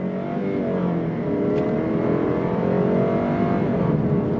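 A 2025 Lexus IS 300 rear-wheel-drive compact luxury sedan accelerates hard on throttle, its engine note rising steadily and loud from start to finish with no voices over it.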